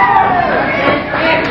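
A crowd at a kickboxing event cheers and shouts in a loud, continuous roar mixed with chatter and babble.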